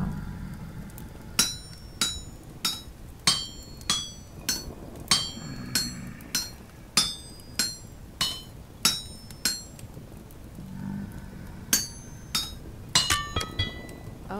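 Hammer striking in the Vintage Story survival game, a steady series of sharp metallic clinking blows roughly every half second to second, with brief pauses, close and clear and without talk.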